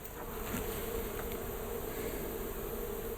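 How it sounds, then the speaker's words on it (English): Wild bees buzzing inside a hive built into a cupboard, a dense steady drone of many wings that holds evenly and close throughout. "Create all that warmth just by rubbing their little wings together and all buzzing and carrying on."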